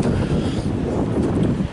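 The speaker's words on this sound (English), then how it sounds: "there's a big gust of wind" A big gust of wind buffets the microphone outdoors, making a loud, continuous low rumbling roar that holds steady throughout, with no talking.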